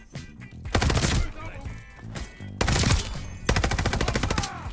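Rapid bursts of Cooper Carbine gunfire in a video game, three loud automatic volleys with short gaps, each a dense rattle of shots.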